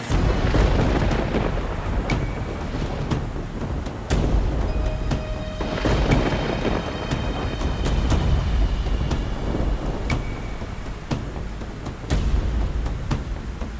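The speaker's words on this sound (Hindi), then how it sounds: "बाहर बारिश बहुत तेज है" Heavy rain pours outside in a steady, loud roar, while deep booms and crackling thunder claps break through repeatedly, with a few high tones in the middle.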